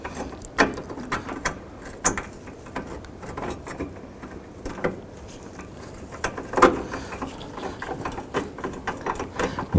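Ratchet wrench clicking as it tightens a headlight mounting bolt on a 2007-2011 Honda Civic, a fairly close run of irregular, quick ratcheting clicks with a few louder snaps and no talking.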